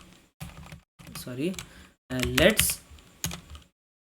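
Keys clatter on a computer keyboard in quick bursts of tapping, close and clear, with someone talking over much of the typing.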